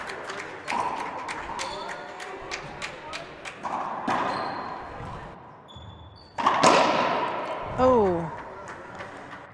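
In a junior girls' doubles racquetball match, the ball cracks repeatedly against racquets and court walls in a quick irregular rally, echoing in the enclosed court, with faint crowd sounds and a voice near the end.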